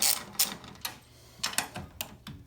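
Ratchet loosening the bolts on a Munchkin boiler during cleaning, heard as a few short, sharp clicking bursts close by with brief pauses between them and no talk.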